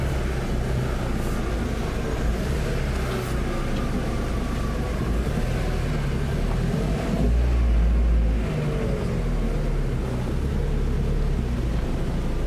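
A Volkswagen Beetle rallycross car's engine hums continuously as it drives, with a low steady rumble and a brief deeper surge partway through.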